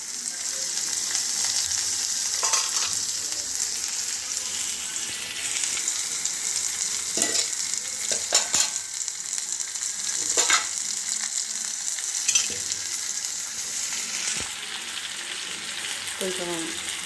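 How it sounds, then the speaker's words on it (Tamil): Onions frying until browned for idly kurma, a steady loud sizzle broken by a few sharp stirring scrapes against the pan, with no talking. "வெங்காயம் நல்லா கொஞ்சம் ப்ரௌன் ஆகணும்"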